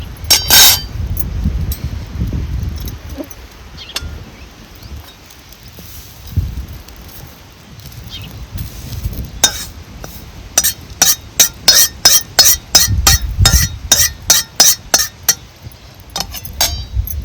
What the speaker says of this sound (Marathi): आता ह्या कढीपत्ता ना मी दुसऱ्या भांड्यात काढून घेते